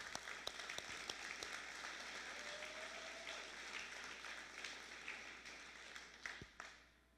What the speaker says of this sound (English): Let's give yourself a round of applause, too.